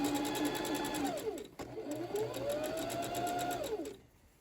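A sewing machine stitches fabric along a tape guide, sewing wrap pants. Its motor whirs steadily up close, slows and speeds up across two continuous runs with a brief pause between them, then stops.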